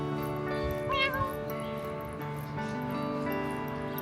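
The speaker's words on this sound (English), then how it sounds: "Oh, there's a cat." A cat meows a few times amid a busy street in Taipei, with people chatting nearby and a tonal hum running underneath.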